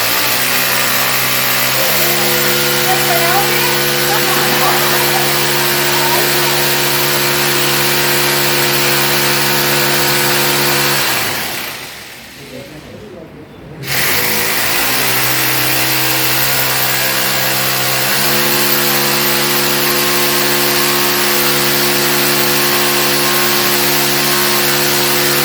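A power drill boring holes runs loud and close with a steady, droning whine, cuts out for about two seconds midway, then starts up again and keeps running.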